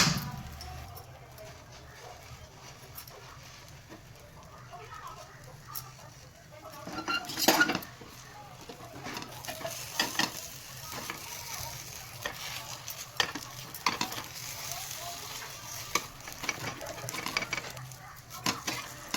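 Patishapta batter meets a hot pan over a low flame, giving a soft, steady sizzle with scattered stirring and clinks of utensils on the pan; a few louder scrapes stand out, and no one talks.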